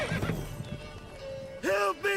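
Roach, Geralt's horse in the video game The Witcher 3, lets out a loud, close, quavering whinny near the end, following a stretch of low rumbling, hoof clatter and a voice in the background.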